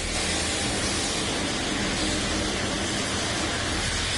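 Steam hissing steadily from a valve in a PS4 game set in a bunker, a loud continuous broadband rush with no pauses.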